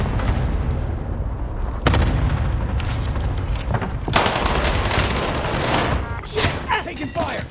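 Video game gunfire crackles in loud bursts over a dense, constant din, with sharper volleys and booms landing near the two-second mark and again from four seconds onward, while voices talk through the action.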